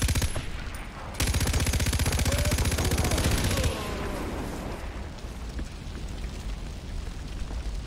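Rapid heavy gunfire hitting a weapon cache in Far Cry 4, a loud dense rattling volley that ends abruptly and leaves a rumbling, crackling aftermath fading into background noise.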